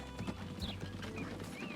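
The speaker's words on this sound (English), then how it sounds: "The little, poor little horses." Horses clip-clop steadily at a moderate distance in the tycoon game Transport Fever 2, a quick run of hoof beats over a low steady hum, with a faint whinny-like tone.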